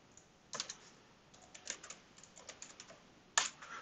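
Someone types an email address on a computer keyboard in a few short bursts of close, crisp key clicks with brief pauses between them, with no voice.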